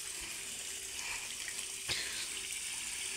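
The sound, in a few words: water running from a tap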